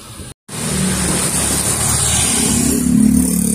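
A car engine hums steadily and fairly loudly as the family's service car pulls up to collect them on Catanduanes, a continuous mid-pitched drone after a brief gap, with no talking.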